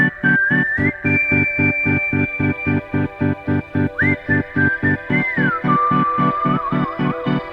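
Melodic human whistling plays over a song, clear sustained notes with slides and bends above a steady pulsing beat, loud and close throughout.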